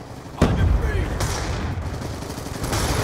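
Gunfire from the Scorpion in Call of Duty: Black Ops 2 multiplayer, rapid bursts of game shots with a sharp burst near the start, under a player's talk.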